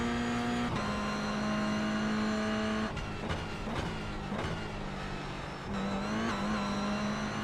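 A Toyota GR86 race car engine drones steadily at Imola in the iRacing sim, loud and continuous with pitch shifts as it upshifts and accelerates, with no talk over it.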